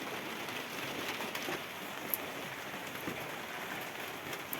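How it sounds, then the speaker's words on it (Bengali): Gentle rain falls steadily in a village, a soft continuous patter with a few distinct drops, with no one speaking. "ধীরে ধীরে বৃষ্টি হচ্ছে।"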